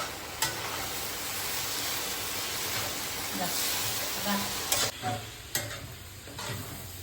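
Chorchori vegetables with torn green chillies fry in a pan with a continuous hiss and crackle, broken by a few sharp clacks of a utensil on the pan, under brief, low background voices.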